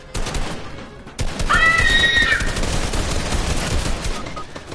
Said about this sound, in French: On dirait des tirs.